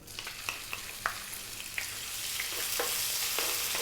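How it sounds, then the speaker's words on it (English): Onion drops into oil on high heat with crackling pops that build into a steady, loud sizzle, close and continuous. "Okay, now we're going to drop in that onion."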